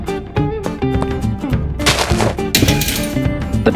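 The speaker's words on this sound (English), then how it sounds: "I'll set up the turret with my most powerful gun." A turret gun in a Minecraft zombie defense build fires rapid, loud repeated shots in quick bursts over a busy backdrop of game sound effects and music.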